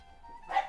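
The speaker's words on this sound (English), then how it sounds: "My dogs are barking in confusion towards all of this" A dog in the Crusader Kings 3 Game of Thrones mod gives one short, sharp bark or yip, heard alone and close, rising at the very end of a faint hum.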